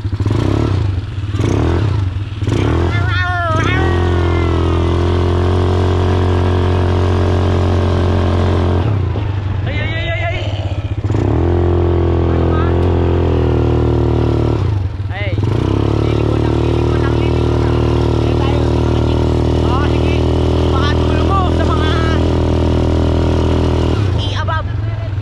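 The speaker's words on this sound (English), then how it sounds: "I'm driving right now" Vehicle engine running steadily while driving, a continuous low rumble throughout, with a voice talking over it at the start and some clattering.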